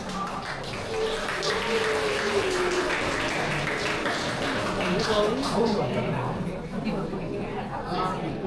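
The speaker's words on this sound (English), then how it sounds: "So please give a round of applause to our speakers and hosts." A round of applause for speakers and hosts at a school teachers' event, clapping mixed with crowd chatter and voices throughout, fairly loud and continuous.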